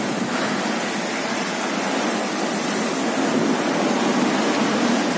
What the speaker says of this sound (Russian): Ливень с огромным ветром.